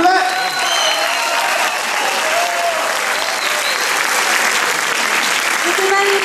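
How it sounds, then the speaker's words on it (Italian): An audience at an Italian-song event applauds after a duet, a full, steady wash of loud clapping with a few voices faintly mixed in throughout. "applaudis bien fort encore une fois, s'il vous plaît."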